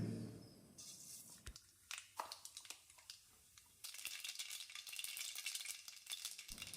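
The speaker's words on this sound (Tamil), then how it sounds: "கடுகு பொரிஞ்சிருச்சு" Mustard seeds spluttering and popping in about 1.5 tablespoons of hot oil in a wok, sharp scattered crackles over a soft sizzle, close and fairly quiet with no talk.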